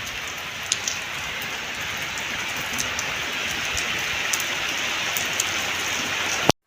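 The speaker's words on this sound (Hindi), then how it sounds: "बारिश अभी तेज़ हो रही है।" Heavy rain pours steadily, a dense continuous hiss of drops drumming on surfaces, with occasional louder splats close by.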